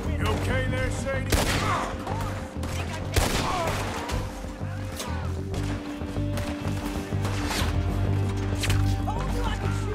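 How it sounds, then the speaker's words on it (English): Red Dead Redemption 2 gunfight: dense, loud volleys of rifle and pistol shots crack one after another over a steady game soundtrack and ambient rumble. "Told you I could shoot a gun, didn't I?"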